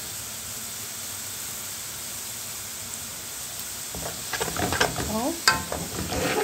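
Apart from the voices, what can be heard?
frying onions in a pan on a gas stove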